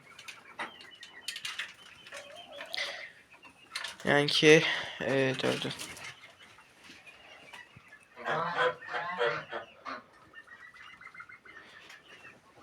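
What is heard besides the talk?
chicks and roosters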